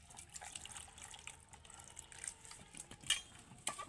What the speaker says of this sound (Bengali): আমগুলোকে ভালোভাবে চটকে চটকে ধুয়ে নেব।